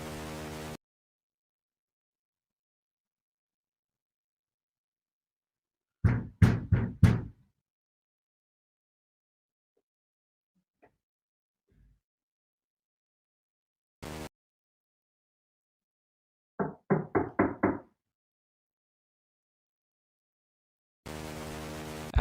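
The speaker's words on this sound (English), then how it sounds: "multiple police officers knocked on his door to see if Lee was in there" Police officers knocking on an apartment door, heard as two separate bursts of several sharp, loud knocks, each burst a quick cluster of raps, with near silence in between and no voices.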